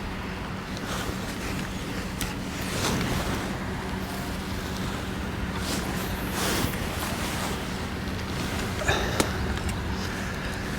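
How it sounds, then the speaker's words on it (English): Steady wind gusting across an open fishery lake on a November match day, a continuous broadband rush with slight swells and a few faint knocks, no talk. "This wind keeps shaking."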